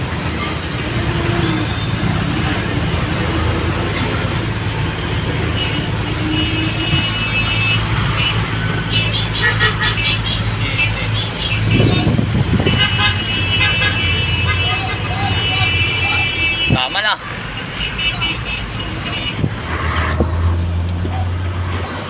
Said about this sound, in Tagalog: businahan na talaga yan